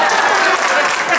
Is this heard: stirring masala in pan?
no